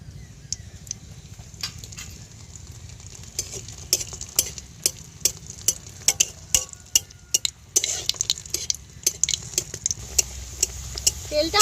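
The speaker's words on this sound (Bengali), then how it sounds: "ডুবো তেলে ফুল সিঙ্গাড়াগুলো ভেজে নেব।" Flower singara deep-frying in hot oil over a low flame makes a hissing sizzle, broken by frequent sharp clicks and scrapes of a utensil moving in the pan.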